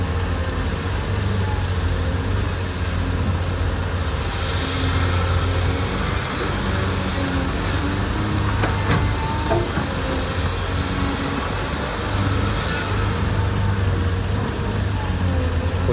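A Kobelco SK200-6 Super excavator digs soil. Its engine keeps up a loud, continuous droning rumble, with occasional metallic clanks and squeals over it and no pauses.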